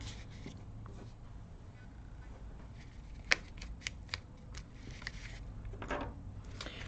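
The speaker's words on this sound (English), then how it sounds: "we are going to trim off our strings, our twine rather" Scissors snip through twine on a handmade card, making a handful of short, crisp clicks in the second half over a quiet room hiss.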